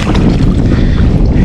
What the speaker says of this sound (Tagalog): Malakas na ang hangin. Tapos may konting lamig pa.